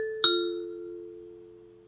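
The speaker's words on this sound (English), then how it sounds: "this is what your doorbell notification will sound like on your Amazon speaker" Amazon Echo speaker sounds a Ring doorbell notification chime, a clear two-note ding-dong heard close, the second tone ringing out and fading slowly in an otherwise quiet room.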